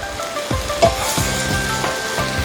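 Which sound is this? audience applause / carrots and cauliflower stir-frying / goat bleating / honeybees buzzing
carrots and cauliflower stir-frying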